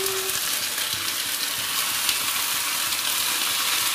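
Dhekia fern greens and tomatoes sizzle in a pan with fried potatoes, a steady, loud hiss of frying that runs without a break.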